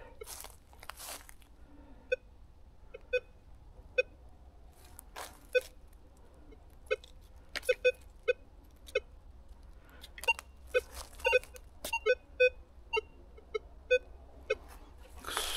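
A metal detector gives short electronic beeps and chirps at irregular intervals as it sweeps over ground in a forest, some in quick clusters, over a quiet low background with soft crunching.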